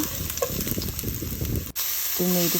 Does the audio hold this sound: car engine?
no